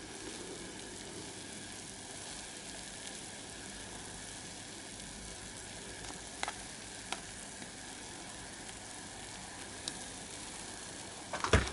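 An aluminium heatsink reacts vigorously in a gold recovery solution, boiling over with a continuous, even fizzing hiss that stays level throughout and ends in a few brief clatters.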